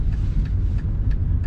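A 1999 Renault Megane coupe with a 1.6-litre 90 hp engine accelerating gently, heard as a steady low engine rumble with faint road noise, recorded from inside the car.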